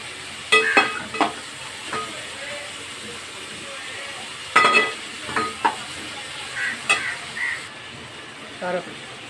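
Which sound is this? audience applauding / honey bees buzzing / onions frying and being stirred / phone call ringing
onions frying and being stirred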